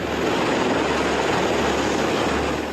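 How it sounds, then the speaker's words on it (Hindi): Constant loud drone of a military helicopter's rotor and engine, steady and unbroken throughout with no speech. "ये तमाम तकनीक से लैस बेहद शक्तिशाली और स्मार्ट हेलीकॉप्टर है"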